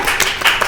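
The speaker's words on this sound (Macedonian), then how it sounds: "Аплауз." Short burst of hand clapping for a Macedonian music show's jury-score announcement, a brief ragged patter of a few claps lasting under a second.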